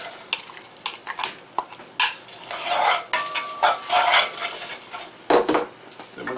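Onion dropped into olive oil in a pan for baked spaghetti, with clattering utensil stirs and scrapes against the pan over a faint sizzle, close and irregular.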